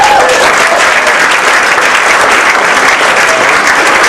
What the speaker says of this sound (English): How about a quick round of applause for your wait staff,